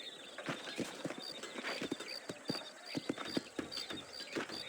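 Horses' hooves clip-clop at a steady walking rhythm in the Red Dead Redemption video game on PC, fairly close, with a high repeating metallic jingle layered over the hoofbeats.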